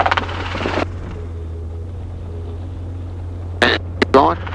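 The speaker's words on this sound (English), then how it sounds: "The helicopter's going to move." A helicopter in flight during autorotation training: a steady low rotor and engine drone runs throughout, close and constant, with brief bursts of talk over it at the start and near the end.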